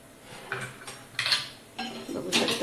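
A spatula scraping around the edges of a jowar-flour dhirade in a pan, three distinct close metallic scrapes and clinks separated by short pauses.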